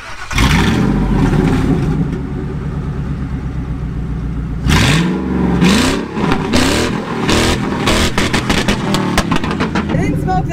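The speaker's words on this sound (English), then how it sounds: "Let me rev it up to see if smoke comes out." A pickup truck's engine, just driven through a river, revs loudly several times in repeated rising surges over a running idle, close by, with a voice briefly heard.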